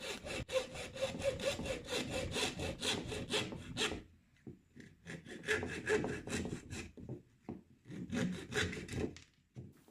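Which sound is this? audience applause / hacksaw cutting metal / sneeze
hacksaw cutting metal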